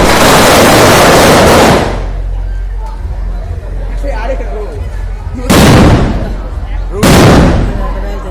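Large firecracker bombs go off at a Vijayadashami night celebration: one long explosive blast, then two more sharp booms, loud and close, with crowd babble and distant crackling between them.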